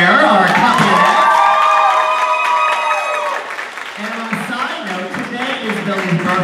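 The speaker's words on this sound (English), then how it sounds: "I want to hear a thunderous round of applause for Billy Blair, our company" A concert audience bursts into loud applause with cheering and whoops, a dense close roar that stays strong throughout while voices shout over it.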